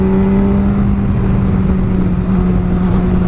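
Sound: Honda CBR600RR motorcycle engine misfiring and losing power

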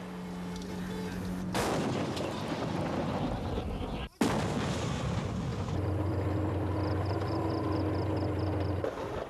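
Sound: gunfire

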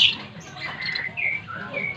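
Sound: pet munia finches (emprit) chirping

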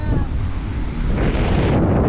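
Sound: strong wind at the beach

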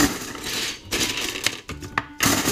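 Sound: RAM sticks thrown into an empty bucket

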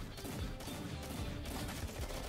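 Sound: Gatling gun firing in Roblox video game

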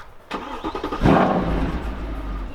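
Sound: Mercedes-AMG C63 engine starting

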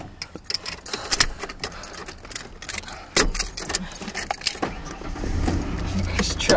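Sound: truck engine failing to start, keys jangling

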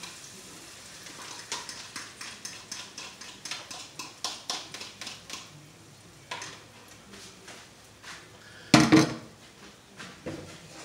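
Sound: adding eggs to sauteed veggies in a pan for an omelette

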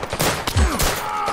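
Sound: gunfire in video game Zero Caliber VR

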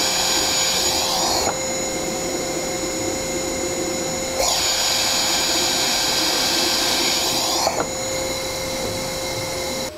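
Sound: FLSUN S1 3D printer running with 3D-printed muffler

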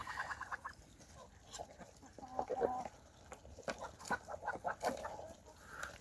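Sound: chickens clucking

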